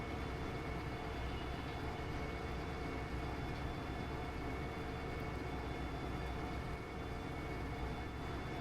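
A train rolls along the rails in Derail Valley as a steady, dense rumble with constant low roar and faint tonal hum, unbroken and even for the whole stretch.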